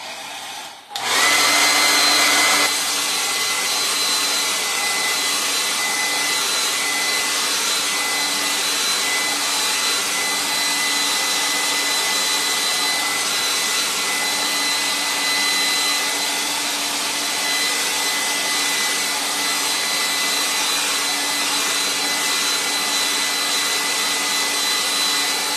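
A hair dryer drying a watercolor painting, switched on after a brief moment and running as a steady loud whooshing roar for the rest of the clip, close and alone.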